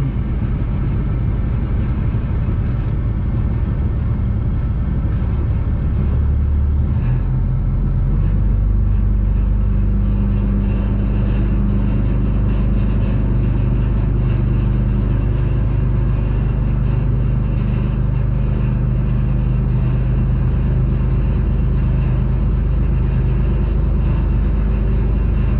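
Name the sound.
bulldozer engine running while pushing dirt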